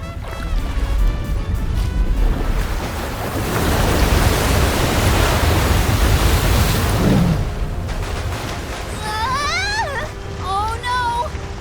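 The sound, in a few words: ship crashing through a wall of waves in Visions of Mana video game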